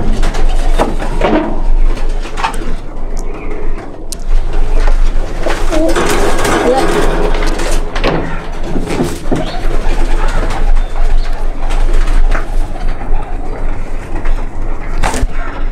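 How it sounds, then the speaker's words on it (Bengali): Imported red-eyed pigeons coo in a loft, low throaty coos repeating amid wing flutters and shuffling, while someone speaks over them at close range. "এটাও কামাগার কবুতর হ্যাঁ এটাও কামাগার কবুতর"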